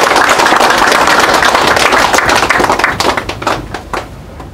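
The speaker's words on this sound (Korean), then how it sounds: "큰 박수로 환영해 주시기 바랍니다." Audience at a Korean political event on ballot counting applauds to welcome a lawmaker, a dense burst of close clapping that thins into scattered claps and fades over a few seconds.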